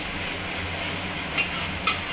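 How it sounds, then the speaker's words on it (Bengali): Masala stirred in a pan just after the water from rinsing the spice grinder goes in: a soft, steady scraping and swishing, faint and close, with two brief clinks near the end and no talk. "আর মিক্সি মশলা ধোয়া জলটা দিয়ে দিলাম। ভালো করে নাড়িয়ে নেব।"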